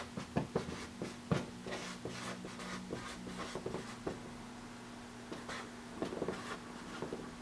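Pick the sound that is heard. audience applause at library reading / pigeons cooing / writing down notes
writing down notes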